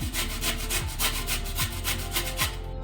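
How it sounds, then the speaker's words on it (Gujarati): Beetroot rasped against a kitchen grater in a steady back-and-forth rhythm, about a dozen close, even scraping strokes with no talking. "એનાથી આપણે બીટને ખમણ કરી લઈએ."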